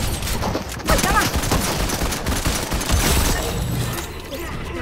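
Rapid SMG gunfire from the Primal SMG in Fortnite crackles loudly and steadily through a short stretch, with dense overlapping shots and mechanical game effects, while a voice talks faintly underneath.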